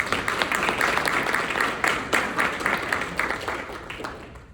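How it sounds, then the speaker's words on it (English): An audience at a school board candidates forum breaks into a round of applause, dense clapping swelling and then gradually fading over a few seconds. "Let's give him a big round of applause."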